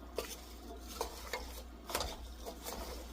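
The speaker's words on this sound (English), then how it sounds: "we're going to get this stirred up" A spoon stirs apple pie filling in a bowl, giving soft repeated scrapes and clinks against the dish at an unhurried pace, close and fairly quiet, with no talking.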